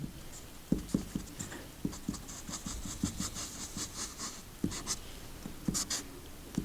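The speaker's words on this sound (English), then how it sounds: "draw line AB passing" A pen draws lines on paper during a geometry construction, producing close scratchy strokes in short irregular bursts over several seconds, with no talking.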